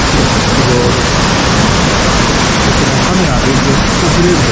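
Urami Falls in autumnal Oku-Nikko roars as a steady, loud, unbroken rush of falling water that fills the whole clip without pause.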